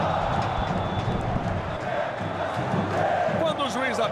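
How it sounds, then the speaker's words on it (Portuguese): A large crowd of Vasco football fans roars and chants in the stands at São Januário stadium during a Copa Sudamericana rout of Aurora, a steady celebratory din with a commentator's voice on top. "Ouça a torcida do Vasco"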